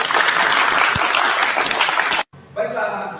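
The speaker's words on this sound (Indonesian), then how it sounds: "tepuk tangan dulu untuk kita semua" A class of automotive engineering students claps together for a couple of seconds, a loud burst of applause that stops abruptly, followed by quieter room sound.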